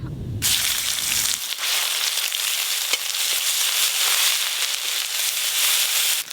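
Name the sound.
spices frying in hot mustard oil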